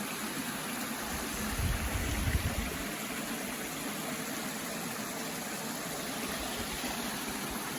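Water runs down through the forest hills of Palakonda as a continuous broadband rush, steady and moderately close, with a brief low rumble early on and no talking.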